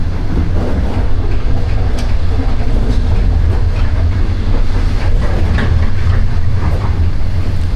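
A long-distance passenger train in China heard from the open gangway between cars, a loud constant rumble with rhythmic clacking of wheels over rail joints and occasional metallic clanks, close and unbroken.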